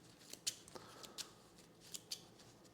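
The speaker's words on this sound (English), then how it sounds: "And then we shall finally shuffle the deck that I do not enjoy." A deck of cards shuffled during a tabletop game of Aeon Trespass Odyssey, heard as a few quiet, crisp riffling snaps spread across a couple of seconds with no talk over them.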